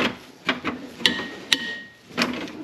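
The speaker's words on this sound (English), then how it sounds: "Got myself a bigger breaker bar. Okay, just crack all of them loose." Breaker bar cracking loose the tight engine bolts on a 2004-2009 Toyota Prius engine under rebuild, a handful of sharp metallic clicks and snaps at uneven intervals, close and fairly faint.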